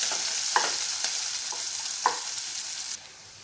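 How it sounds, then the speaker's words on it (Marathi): Cumin and chopped onion frying in oil, a steady bright sizzle with a few soft stirring scrapes spaced through it, ending abruptly. "थोडं जिरं घालायचं आहे आणि हे छान फ्राय करायचे"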